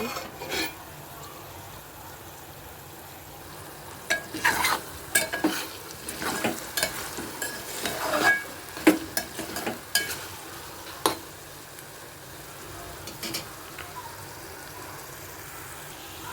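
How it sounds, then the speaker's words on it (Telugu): Onions and tomatoes frying in a pan, a soft steady sizzle with a few sharp scrapes and clinks of a stirring utensil in the middle, close but fairly quiet. "ఇంకొక క్షణం అయితే ఉంచుతామండి ఇంకా బాగా ఫ్రై అవుతుంది"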